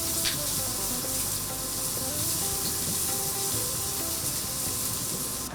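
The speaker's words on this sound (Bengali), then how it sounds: "পেঁয়াজটা একটু ভাজা হোক" Chopped onion sizzling in a pan during preparation of an egg and cabbage dhoka, a steady broadband hiss that stays even and close throughout without talk.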